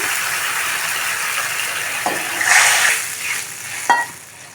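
A loud, broad sizzle of tomato-tamarind paste for fruit chutney hitting a hot wok, swelling midway, with a couple of sharp metallic scrapes near the end.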